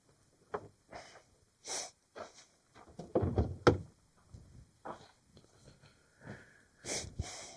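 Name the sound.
sniffling from the cold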